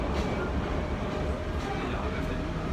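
Passenger train rumbling along, a dense continuous roar of wheels and carriage noise from inside the coach, loud and steady throughout with faint voices mixed in.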